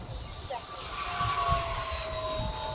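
A 3D printed electric ducted fan jet model runs steadily at half throttle with a continuous high whine and breathy rush, heard from fairly close with some wind noise.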